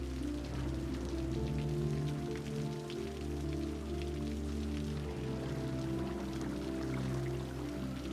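Heavy rain in the city-building game Cities: Skylines pours down in a dense, continuous patter over a low, steady rumble of ambient city hum.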